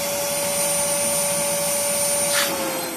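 A wet vacuum sucks water from a BMW E36 car carpet with a steady, loud whine and suction roar, with a brief gurgling hiss near the end.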